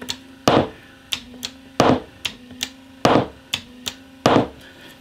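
A clutch engages a sprocket wheel that drives a hammer mechanism, producing loud, evenly spaced heavy strikes with lighter taps between them, all over a steady low electrical hum.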